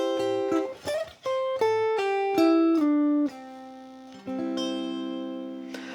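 Ukulele playing a rock-blues ending lick, clear plucked notes stepping along at a moderate pace and then slowing, ending on a sustained ringing chord, alone without talk.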